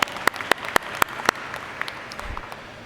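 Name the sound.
audience applause for a panelist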